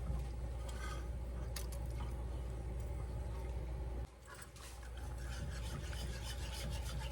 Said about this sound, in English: Scratch all that goodie off the bottom. Keep rubbing that around.